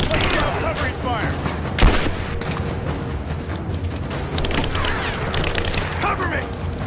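Continuous gunfire and booming shots from a Rise of the Tomb Raider battle, dense and steady, with shouting voices over the combat.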